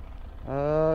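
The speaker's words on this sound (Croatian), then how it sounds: "Motor je dosta glasan." A QJ Motor motorcycle engine that rises from a faint rumble into a steady, buzzing hum with a strong tonal whine, close and growing louder over the final half.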